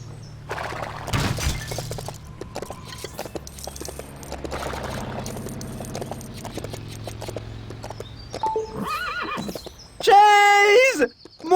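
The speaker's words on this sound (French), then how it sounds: "Regarde! Des chevaux!" Clattering hooves and scattered knocks lead into a loud, shrill horse neigh, with cartoonish game-style sound effects from LEGO City Undercover.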